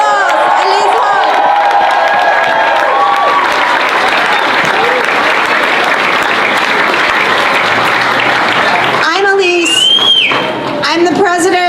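A large crowd at a Families Belong Together rally applauds and cheers for a speaker, loud sustained clapping with whoops, before talking begins near the end.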